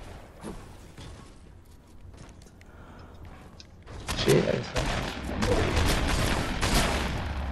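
Gunfire in a multiplayer shooter video game: faint shots early on, then denser, louder volleys of rapid bursts in the second half, with some voice activity mixed in.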